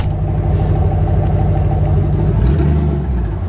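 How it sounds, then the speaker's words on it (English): Twin-turbo Chevrolet Malibu engine revving under throttle, a deep, loud, continuous rumble with steady low harmonics that dips slightly near the end, heard up close with no talk over it. "he's literally just pulling on the throttle pedal"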